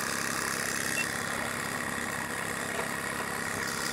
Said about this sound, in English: Hot steam under pressure is causing that piston to drive, turn the crank, which turns this flywheel.